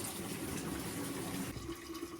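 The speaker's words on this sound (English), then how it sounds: "Get a lot of clean water running through the system." Clean water rushes steadily through a Rheem tankless water heater's lines during annual maintenance flushing, a continuous close gush of running water with no voices.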